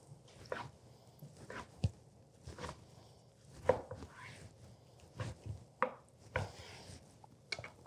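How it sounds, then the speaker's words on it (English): A knife slices beer-marinated skirt steak into strips against the grain, making a series of soft, irregular cuts with sharper taps of the blade on the cutting board. "I'm gonna go ahead and slice that into beautiful strips right now. Right against that grain."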